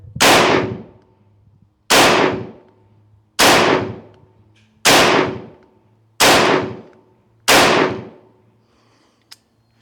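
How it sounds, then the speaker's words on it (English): A T50 Extreme airgun fires six evenly spaced shots over a chronograph 17 yards away, each a loud sharp crack fading quickly, about one and a half seconds apart, with no talking. "ready to go with our first volley from the T50. Over our chronograph, 17 yards away."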